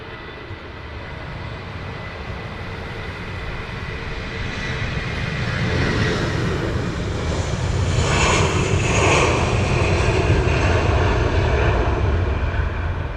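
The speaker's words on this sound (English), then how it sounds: "Saying good afternoon to Airbus Neo" An Airbus neo jet at London Heathrow Airport gives a loud, broad engine roar that builds midway and stays strong to the end. No voices are heard.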